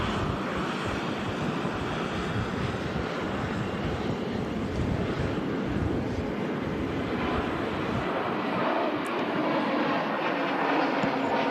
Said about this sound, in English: Lufthansa A380 Neo heading out to Munich.